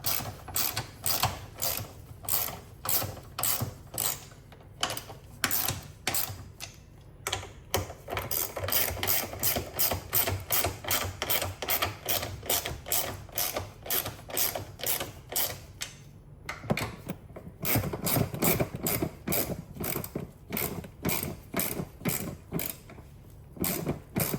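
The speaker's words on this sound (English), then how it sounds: "putting a torque wrench on it" Torque wrench ratcheting steadily on Porsche GT4 camber plate bolts, close and continuous clicking in quick regular strokes, with short pauses between runs and no talking.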